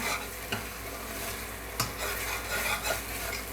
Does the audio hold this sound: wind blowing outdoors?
no